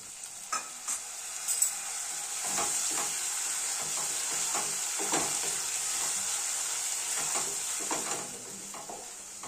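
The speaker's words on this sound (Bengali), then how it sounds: "পুনরায় নাড়াচাড়া করব এবং সব কিছু ধীরে ধীরে কষতে থাকব।" Spice paste with turmeric and salt being stirred and fried in a pan for a Bengali doi katla curry, a steady close sizzle broken by repeated scraping strokes of the spoon, with no talking.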